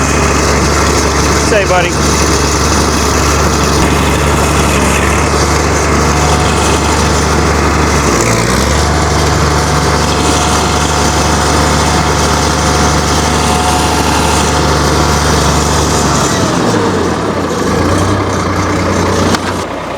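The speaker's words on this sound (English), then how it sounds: "We'll let the tractor run a little bit more before we shut it off." A Farmall 806 tractor engine idles after a cold start on a freezing day, a loud, steady low rumble that holds throughout with slight dips, while a person speaks briefly over it.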